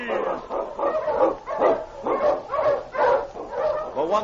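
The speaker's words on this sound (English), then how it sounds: "The Wonder Dog King, swiftest and strongest of Eskimo lead dogs" An Eskimo lead sled dog barks in a rapid rhythmic series as a vintage radio drama sound effect, loud and close, with about eight evenly spaced barks and yips.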